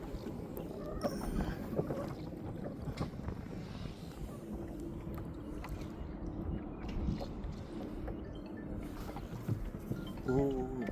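A boat ride on the Godavari river, with steady water wash and wind buffeting the microphone through the whole stretch, plus faint distant knocks and a brief chirping near the end.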